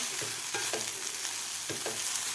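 Okra bhaji frying in a pan and being stirred, with a steady sizzle under several soft scraping strokes of a spatula, close and continuous.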